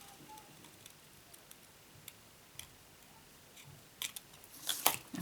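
Scissors cut across papercraft card for a pop-up vase, giving a few quiet, crisp snips near the end after a long, almost silent stretch.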